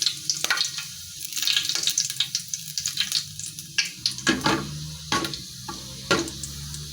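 Annatto seeds sizzling in hot oil in a pan, a close, crackling fry with irregular popping bursts and occasional stirring scrapes, no voices.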